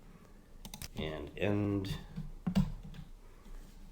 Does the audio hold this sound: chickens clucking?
no